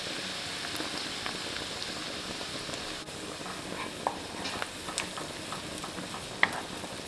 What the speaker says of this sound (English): Now I'm going to add my egg.